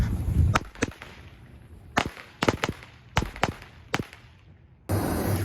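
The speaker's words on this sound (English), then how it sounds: "Firecrackers." Firecrackers bursting outdoors on New Year's Eve: a string of sharp, separate cracks in uneven bursts, some loud and close, others quicker pairs, over faint background noise, then a sudden steady rushing hiss at the end.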